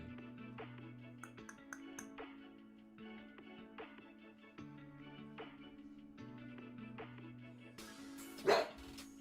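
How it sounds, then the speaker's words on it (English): A dog barks several times at a distance, faint and well back behind steady music, with no one talking over it. "the dog barks"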